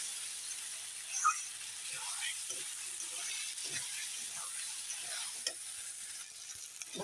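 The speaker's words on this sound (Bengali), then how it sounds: "ভাজা ভাজা হোক এখন দেখো কত সুন্দর কষানো হচ্ছে" Chicken ghugni masala sizzles and fries steadily in a pan while being sautéed and stirred, with occasional scraping clicks of the spatula, close and moderately loud throughout.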